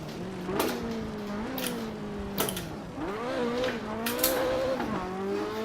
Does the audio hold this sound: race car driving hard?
yes